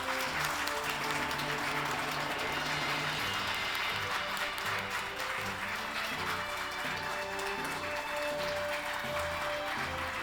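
Sustained audience applause fills the hall at the 2021 Samsung Ho-Am Prize award ceremony. Many hands clap in an even, continuous roar that holds steady without pause.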